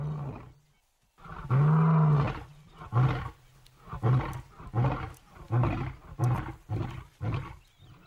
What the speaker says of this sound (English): With a roar that sounded like thunder